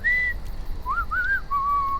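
Whistling from a character in the video game The Walking Dead: The Final Season: a short whistled note, then a rising, wavering phrase and a long steady tone, clear and close over a low background hum.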